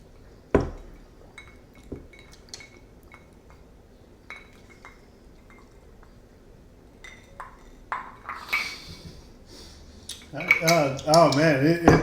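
Tequila glasses clink in a toast: a few sharp, bright glass chinks and pings spread through a quiet room, followed by louder clinking and handling noise near the end.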